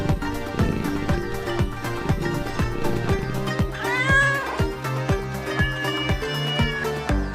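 A cat meows several times, with one drawn-out, wavering cry standing out midway, over a steady rhythmic beat of backing music.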